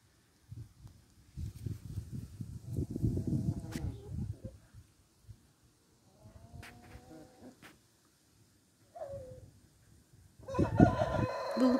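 A Jersey Giant rooster in a poultry enclosure crows several times at close range, with softer clucking and short calls between the crows and no talking.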